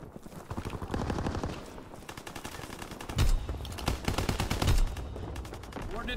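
Rapid automatic gunfire in the game GUNR rattles in dense bursts, with two heavier booming impacts standing out. Loud and continuous throughout.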